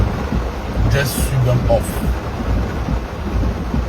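Heavy rain pours steadily near a flooding river in Accra, with a low rumble of thunder rolling underneath, loud and continuous, while a person talks over it.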